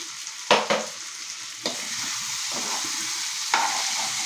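A pot of vegetable curry made with home-grown organic vegetables bubbling as chili powder goes in, a steady soft hiss with a few sharp scraping stirs of a spoon against the vessel, close by and without speech.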